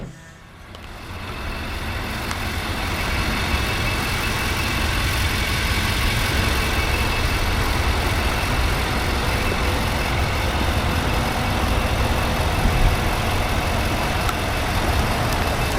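A 2011 Infiniti QX56 AWD with a 5.6 liter V8 starts and settles into a steady, full-bodied idle, a close and continuous low rumble that stays even with no one talking.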